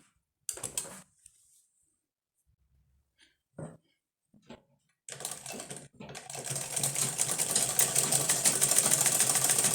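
Sewing machine stitching a flare blouse, with scattered fabric handling clicks first, then the motor running in a continuous fast buzzing whir that grows louder and steadier.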